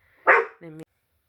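A dog lets out a single loud bark followed by a short, tonal yelp, both close and clear, then silence.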